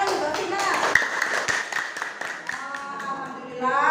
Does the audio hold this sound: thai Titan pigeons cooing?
no